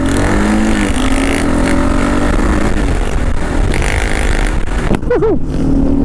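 A 2016 Kawasaki KLR 650 on a road test ride on an enduro tour produces loud continuous engine drone mixed with heavy wind roar, with a pitch that shifts briefly near the end.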